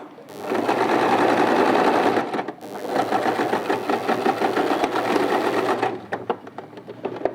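A sewing machine stitches a round neckline in two long, loud bursts of rapid needle chatter, split by a brief pause and ending with a few clicks, with no voices.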